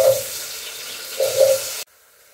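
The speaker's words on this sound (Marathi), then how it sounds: "तर आता मी हे बेबीकॉर्न जे आहे ते मी शालो फ्राय करून घेते" Baby corn shallow frying in a pan, a steady close sizzle with a couple of louder swelling bursts, then cutting off abruptly to near silence.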